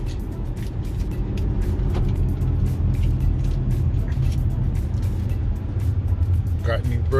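Infiniti FX35 with new brakes on the move, heard from inside the cabin as a steady, loud low road-and-engine rumble that continues unbroken throughout.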